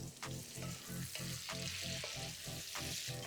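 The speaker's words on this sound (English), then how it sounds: "go ahead and add your shrimp in. We're gonna cook this for maybe like a minute or two" Shrimp frying in a pan for seafood rice, a close, steady sizzle with crackling pops and occasional stirring clinks, no voices.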